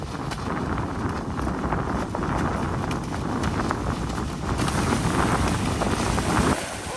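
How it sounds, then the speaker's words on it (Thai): Strong wind roars and buffets the microphone in continuous gusts at Si Yat Dam reservoir, loud and rough throughout, with no one speaking. "โอ้ลมอย่างแรงอ่ะ"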